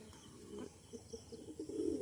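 Soft, low cooing from a Gola Laini breed pigeon kept by a hobbyist, a few repeated murmuring coos close by over a constant background hum, with no voices.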